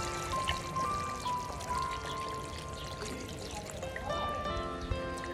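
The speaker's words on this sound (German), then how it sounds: "Nach dieser Garzeit füllen wir das Ganze noch mindestens mit einem halben Liter Wasser auf." Water pours steadily into a pot of Spanish farmhouse-style Kesselfleisch stew, a continuous close splashing stream running several seconds with no talk.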